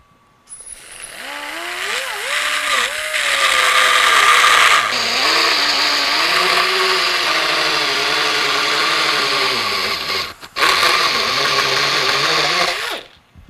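A power tool whines loudly as it cuts the trim line on a fabricated part, its pitch wavering under load, with a brief dip and restart near the end before stopping.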